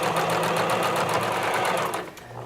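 A sewing machine runs steadily as it stitches a pressed waistband seam, a fast continuous whir for about two seconds that then slows and stops, close and fairly loud with no talking.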